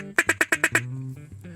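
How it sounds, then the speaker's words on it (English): A traditional wooden drake duck call blown in a quick series of six loud, evenly spaced quacking notes, then a brief trailing tone, close and alone. "This one here we have a Drake call"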